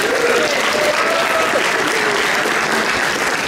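Gala audience at an awards dinner breaks into loud, sustained applause for Tiffany, a dense unbroken roar of clapping with crowd voices mixed underneath.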